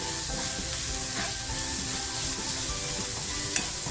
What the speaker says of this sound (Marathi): कांदा सुद्धा आपल्याला आहे ना खमंग परतवून घ्यायचा